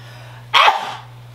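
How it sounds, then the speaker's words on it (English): A single sharp sneeze bursts out indoors, short and loud, then trails off, over a low steady hum. "Ooh, I gotta sneeze."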